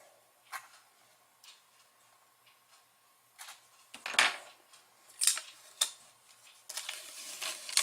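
Protective film is peeled off a plastic top plate for a robot car kit, giving a series of close, sharp crackling and ripping bursts separated by quiet pauses, louder toward the end.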